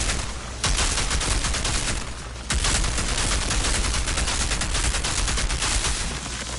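A deployed turret in Outriders firing continuously, a dense, loud barrage of rapid automatic shots that holds steady throughout with one brief dip.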